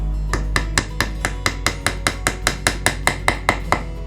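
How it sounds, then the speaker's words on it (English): A small fretting hammer taps lightly and evenly on a Telecaster guitar, around sixteen quick metallic knocks in a steady rhythm, close by. "Got my little fretting hammer"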